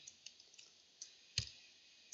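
Quiet computer mouse clicks in a desktop setting, several light ticks spread irregularly, with one slightly sharper click near the middle and no talking.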